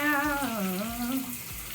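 Shower water runs in a steady hiss while hair is rinsed after a rosemary mint hair mask, with a brief tonal squeak or hum gliding over the spray.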